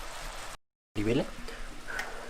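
Shrimp sizzle in a cast iron skillet with a steady crackling fry, broken by a brief total dropout, and a voice is heard over the sizzle afterwards.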